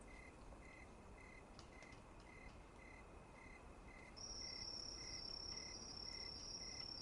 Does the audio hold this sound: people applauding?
no